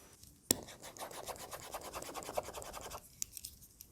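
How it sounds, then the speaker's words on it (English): A Noris Digital Jumbo stylus with a loose rubber end writes across a reMarkable 2 tablet, a close, faint scratchy rubbing in quick repeated strokes with light rattling clicks, about two and a half seconds long. "you can hear much louder with rattling noises due to its rubber at the end that moves a little bit in its housing"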